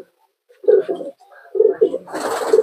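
Pigeons in a loft give soft, throaty coos in short rolling phrases, close by and fairly loud, with one bird's call running into a longer, rougher coo at the end.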